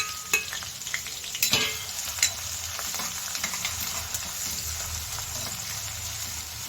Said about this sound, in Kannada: ಈರುಳ್ಳಿ ಚೆನ್ನಾಗಿ ಮೆತ್ತಗಾಗೋವರೆಗೂ ಎಣ್ಣೆಯಲ್ಲಿ ಫ್ರೈ ಮಾಡ್ಕೋಬೇಕಾಗತ್ತೆ.